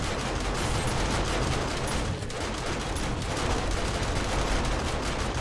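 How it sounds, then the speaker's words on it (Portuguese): Dense, continuous automatic gunfire aimed at a demolisher zombie in 7 Days To Die during a blood moon horde night, loud rapid bursts with a brief dip midway, no talking. "eu atirei no demolidor"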